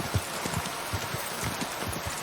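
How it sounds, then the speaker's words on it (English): Steady rain in Kingdom Come: Deliverance 2 patters continuously on open ground, a dense hiss of close droplets with soft irregular taps, heard alone without voices. "If only it wasn't raining."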